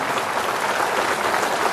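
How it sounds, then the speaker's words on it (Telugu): Audience applause at a public event, a steady dense clapping that fills the whole short stretch at close, even loudness with no voices over it. "మీరందరూ కూడా గట్టిగా చప్పట్లు కొట్టి అభినందించాల్సిన అవసరం ఉంది"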